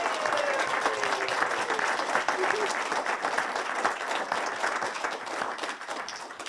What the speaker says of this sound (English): Can we give them all one big round of applause?